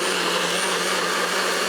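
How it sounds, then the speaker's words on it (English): A NutriBullet blender runs steadily as it blitzes juice ingredients, giving a loud, even motor whine with no pauses and no talk. "We'll blitz this one up, and it's very simple."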